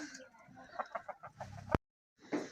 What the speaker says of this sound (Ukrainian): О, збіглись кури ще поїсти.